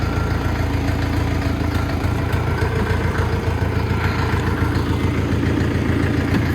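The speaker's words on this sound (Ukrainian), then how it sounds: "витискаємо щеплення повністю і запускаємо трактор" A Kentavr F404XU small tractor engine chugs steadily at idle, close by and continuous, with a low rhythmic rumble throughout and no talking.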